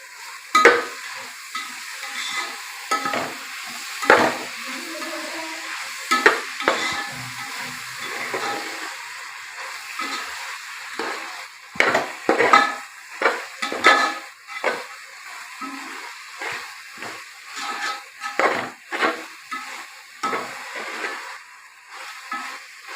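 Fenugreek leaves frying in oil for a methi pulao, stirred in a pan: a steady sizzle with repeated scraping strokes and clatter running throughout, close and fairly loud, with no voices.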